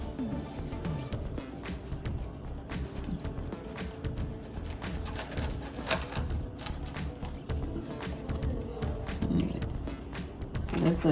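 Knife chopping cabbage for a Jamaican-style salad, rapid steady tapping cuts against a board under a voice talking throughout.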